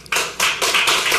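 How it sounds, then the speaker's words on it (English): Applause at a Houston Independent School District public meeting, starting abruptly after a short quiet lead-in and holding as dense, close clapping in several loud surges across the short stretch. "Please hold applause."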